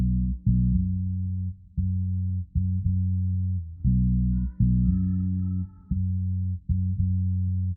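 A sampled bass line in a sample-based beat, passed through a low pass filter with resonance, plays as deep, rounded, sustained notes in a repeating rhythmic pattern, loud and muffled with only a faint trace of higher content partway through.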